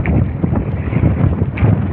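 Strong sea wind buffets a small fishing boat, a loud low rumbling roar of gusts against the microphone with splashing water mixed in, no voices.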